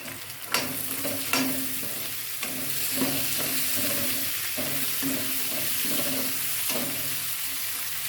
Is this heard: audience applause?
no